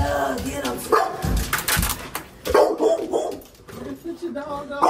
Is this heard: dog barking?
yes